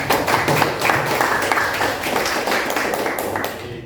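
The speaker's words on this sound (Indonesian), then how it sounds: "Oke, tepuk tangan dulu." An audience in a classroom presentation gives a short burst of clapping, a dense, steady patter of many hands lasting a few seconds, close and fairly loud.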